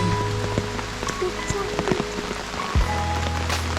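Steady rain falls on a rural lanzones orchard of the Duco variety in the Philippines, a dense close hiss of drops striking leaves and surfaces with scattered louder patters, continuing without any talk.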